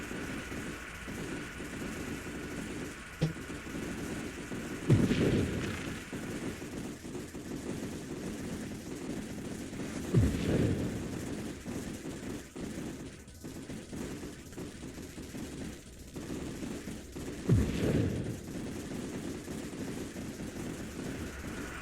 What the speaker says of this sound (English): this boss is firing a lot more rapidly than before